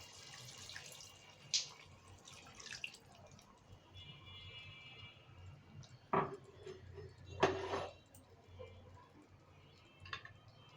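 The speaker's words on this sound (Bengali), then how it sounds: "আর সামান্য একটু জল দিয়ে দিচ্ছি।" A small splash of water is poured into a pan of tilapia fish curry with green chillies, faint pouring and sizzling bursts over a quiet kitchen background, no talk.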